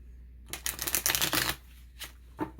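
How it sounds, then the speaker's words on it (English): A deck of tarot cards is shuffled close by in one crisp riffling burst of rapid flicks, followed by two brief taps as the cards settle. "Let's go ahead and shuffle it up."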